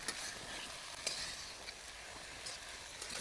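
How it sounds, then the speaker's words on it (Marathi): Cooked spices and umbar sauté in a pan with a steady, soft sizzle and occasional scraping stirs, close by and alone, no voices. "उमर पण टाकून घेऊ शिजलेले मसाले उंबर मस्त परतून घेऊ आपण"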